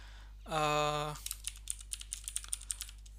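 Typing on a computer keyboard, about a dozen quick, distinct key clicks in an uneven rhythm, close by, after a short stretch of speech.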